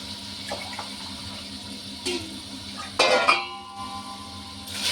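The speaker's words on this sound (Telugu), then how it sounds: "కొంచెం వేగిన తర్వాత అట్లా నీళ్ళు వేసుకుంటున్నానండి" Water is poured into a pan of frying drumstick and onion pieces for sambar, giving a low running splash with a brief louder gush and a clatter near the end.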